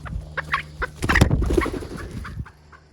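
Several chickens cluck and squawk in short bursts, close by, with a busier flurry of calls in the middle.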